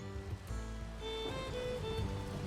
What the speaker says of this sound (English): Oh man, rain on the colony.